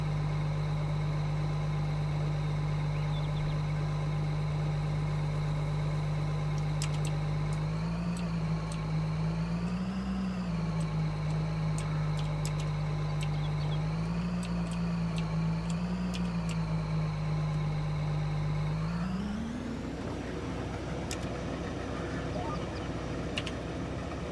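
A truck engine idles in Farming Simulator 22 with a steady, loud low drone. It rises and dips slightly twice before revving up near the end, and no talk is heard over it.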